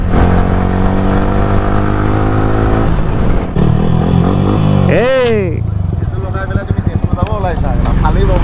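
A Yamaha R15M motorcycle, fresh from an engine oil change, revs and rides close by, its engine note rising and falling through a couple of sweeping gear changes, loud and continuous.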